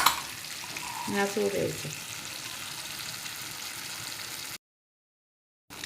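Spices and ground peanuts fry in a pan for stuffed brinjal masala, giving a steady soft sizzle with a few stirring clinks early on, under a brief spoken phrase, then cutting to silence near the end.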